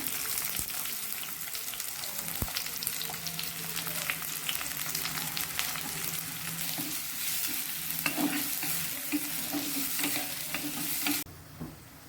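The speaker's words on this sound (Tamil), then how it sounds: "இப்போ வெங்காயம் நல்லா வதங்கிருச்சு" Chopped onion with green chillies, cardamom and cloves sizzles in oil in a pan while being stirred, with steady frying crackle and occasional scrapes of the spoon, then a sudden drop at the end.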